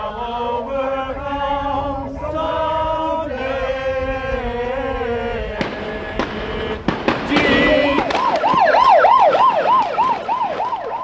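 An ambulance siren wails close and loud, its pitch sweeping up and down in a repeating cycle, preceded by a horn-like tone and sharp bangs.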